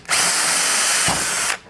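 A power drill bores holes in a plate during a Works Connection Pro Launch install, one steady high-pitched whine lasting about a second and a half with a brief dip in the middle, close and loud, no talk.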